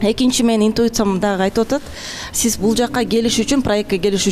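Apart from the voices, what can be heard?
None of the usual background noises is heard.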